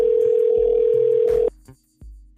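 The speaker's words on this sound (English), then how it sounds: "Answer the phone, Deuce." A steady telephone dial tone on a call sounds loud and continuous, then cuts off abruptly, followed by a couple of brief soft clicks and near silence.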